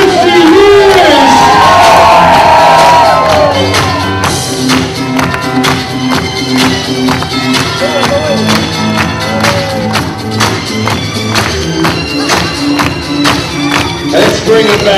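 A loud crowd at a live DJ event cheers and shouts, with an excited voice at the start giving way to sustained roaring over pulsing music.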